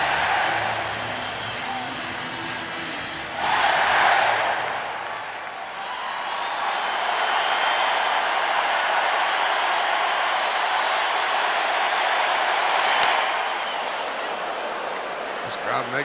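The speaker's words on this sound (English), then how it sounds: "This crowd makes some noise" Big baseball stadium crowd at a World Series game, Braves at Twins, cheering loudly and steadily, with a roaring swell near the start and another near the end; a commentator talks over the noise.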